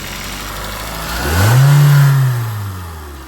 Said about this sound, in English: You can see the engine speed increase spike.